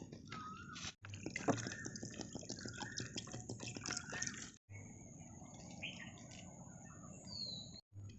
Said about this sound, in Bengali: মাংসগুলো ছোট ছোট করে কেটে নিয়েছি, এবার ধুয়ে নেব।